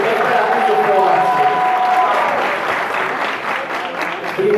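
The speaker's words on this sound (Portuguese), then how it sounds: "Uma salva de palmas aí pra galera da Independente" Round of applause from an audience at a samba awards ceremony, dense steady clapping close by with a voice talking over it partway through.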